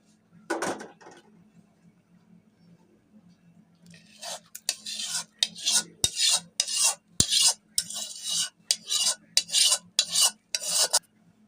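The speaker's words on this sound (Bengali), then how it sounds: "এখন আমরা যে পূর্বে মশলাটা কষিয়ে রেখেছিলাম সেই মশলাটা এখন দিয়ে দেব" Fried spice paste goes into a pot of vegetable khichdi and is stirred: an early clatter, then a close, rhythmic run of scraping spoon strokes against the pot with short gaps between them, with no talking.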